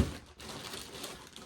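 A plastic poly mailer wrapper crinkles and rustles as it is handled and pulled open, a steady close crumpling sound with no voices.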